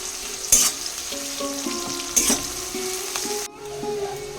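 Onions fry in a pan with garam masala tempering, a steady close sizzle broken by a couple of sharp stirring scrapes.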